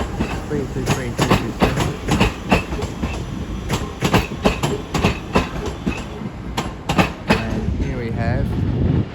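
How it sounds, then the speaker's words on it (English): An Avanti West Coast passenger train runs through Crewe station on the West Coast Main Line with steady rumble and clickety-clack of wheels over rail joints, while a station announcement voice carries over the passing carriages. "coming through will be a Advance West Coast service from London Euston to Glasgow Central."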